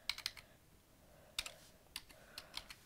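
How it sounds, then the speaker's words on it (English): A password is typed on a laptop keyboard near a MacBook connected to a TV, producing quiet, close key clicks in short uneven bursts separated by brief pauses. "I'm just going to type in my password."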